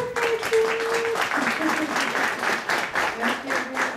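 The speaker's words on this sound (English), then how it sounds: "Let's give them a big round of applause" Audience applause at a military awards ceremony for graduating senior cadets, a sustained, fairly loud patter of many hands with a faint tone and some voice-like sounds mixed underneath.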